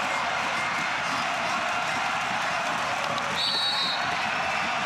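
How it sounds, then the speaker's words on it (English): A packed stadium crowd at a men's EuroHockey 2013 field hockey match between Germany and Belgium roars steadily, a dense wall of cheering that holds loud throughout with a brief whistle-like tone near the end. "Listen to the crowd now. They're on their feet, roaring their approval."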